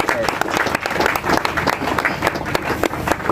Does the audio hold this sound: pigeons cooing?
no